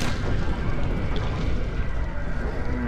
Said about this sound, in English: Oh, dude, survived bomb.